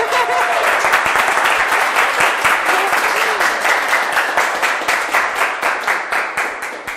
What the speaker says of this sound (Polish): Bardzo dziękuję za oklaski.